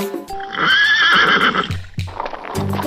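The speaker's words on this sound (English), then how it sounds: "Horse." A horse gives a loud, close whinny, a high shaky call that rises and wavers for about a second, then ends in a few low snorting breaths.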